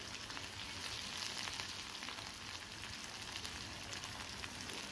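Thinly sliced onions frying in a pan with cumin, urad dal and chana dal for an Andhra-style ivy gourd fry, a steady dense sizzle throughout with no talking.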